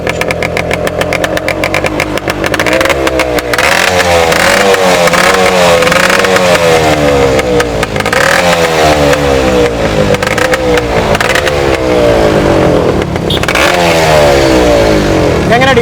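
Yamaha RX-Z two-stroke motorcycle, a used bike with its silencer fitted, starts up and revs loudly up close, with rising and falling engine pitch sweeps throughout.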